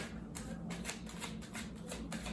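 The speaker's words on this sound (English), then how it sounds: "I'm going to shuffle once." A deck of tarot cards is shuffled once during a reading, giving a close, quiet run of papery riffling bursts over a soft steady background.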